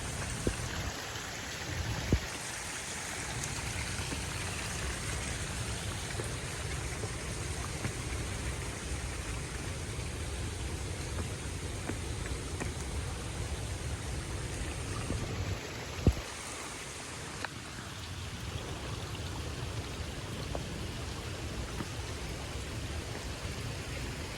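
Clear water flows steadily across the top of Krangsuri Waterfall in West Jaintia Hills, Meghalaya, making a constant rushing, splashing wash with no voices and a couple of brief sharp knocks.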